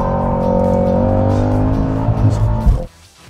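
A Cadillac CT5-V Blackwing with a manual gearbox pulls hard, its engine note rising loud and close through the gears, with a brief burst of tyre or drivetrain noise and a sharp cut-off just before the end.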